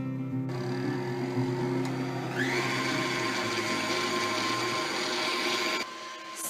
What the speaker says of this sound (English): So I've got my mixer going.